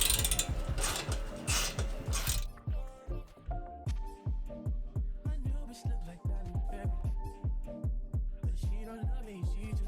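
Ratchet clicking steadily as exhaust bolts on a Toyota GR86 are tightened, a quick burst of rapid clicks first, then repeated loud, close ratcheting strokes in an even rhythm, alone without talk.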